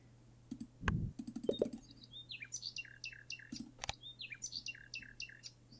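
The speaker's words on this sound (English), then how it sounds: "Nightingale's song has been called one of the most beautiful sounds of nature." Common nightingale song: a rich series of varied whistles, rapid repeated chirps and trills in quick phrases, fairly faint and close, with a few soft clicks mixed in and no talking.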